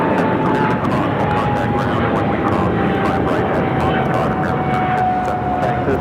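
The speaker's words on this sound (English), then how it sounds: "This is EVA Air Flight 5 taking off to Taipei on the 777-300ER" Boeing 777-300ER jet airliner of EVA Air taking off at Los Angeles LAX, a steady loud roar of engines sustained throughout with a faint tonal whine, heard from an airport viewing spot with talk over it.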